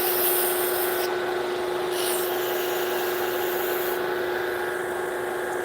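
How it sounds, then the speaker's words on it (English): Sandpaper works the end of a wooden shillelagh close up, a steady hissing rasp running throughout under a constant tonal hum, with a few brief shifts in texture as the strokes change. "I'm gonna need to take sandpaper to that end."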